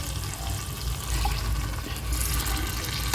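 Water poured from a cup into a pan of egg kurma made with ground coconut, a steady splashing rush lasting a few seconds, close and fairly quiet with no talk.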